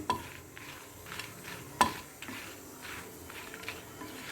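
Dried red chillies roast in a pan while being stirred, giving repeated soft scraping sweeps with a faint sizzle underneath and one sharper clink of utensil on pan, fairly quiet and without talk.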